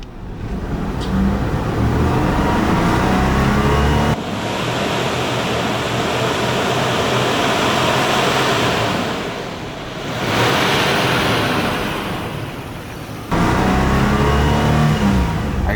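An old Isuzu Trooper engine revs steadily and loudly while its slipping transmission fails to grip, the drone holding high with a brief dip and surge midway.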